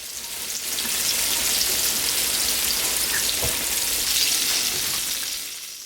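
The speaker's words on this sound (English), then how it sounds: "You don't want the fish to cook too long, but when it turns that nice golden brown, that's when you pull it." Catfish pieces frying in a pan of hot oil, New Orleans style, a loud steady hissing sizzle close up that swells in and fades out, with a few faint pops and no talking.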